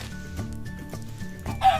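Chickens in Minecraft give short, repeated clucks at close range over a low musical backdrop, with a few brief game sounds between them.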